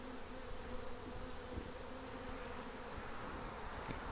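Honey bees in a crowded, honey-bound swarm trap give a steady, even drone of buzzing that holds throughout at a modest level, with no voices.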